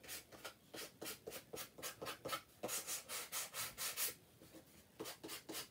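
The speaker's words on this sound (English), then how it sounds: "So I'm just sanding the edges a little bit." Rhythmic back-and-forth sanding along the edges of a paper craft piece for a Halloween garland, quick rasping strokes in steady bursts, close and fairly soft, with no talking.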